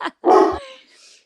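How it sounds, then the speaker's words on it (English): A dog barks close by, one sharp yelp followed by a louder, longer bark that trails off into a softer whine, with no talk over it. "the dog is barking"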